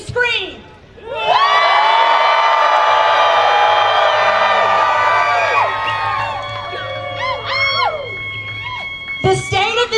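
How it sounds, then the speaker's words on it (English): A large crowd at a protest rally in Augusta, Georgia screams and whoops together in a loud, sustained roar that holds for several seconds before tapering off, followed by scattered shouts. "please, let me hear you scream"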